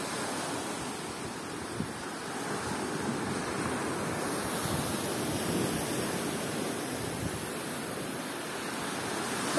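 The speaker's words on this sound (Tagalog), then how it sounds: "Nadidinig niyo po yung lagaslas ng" Sea waves wash steadily onto a black sand beach at night, a continuous broad surf roar with gentle swells and no voices.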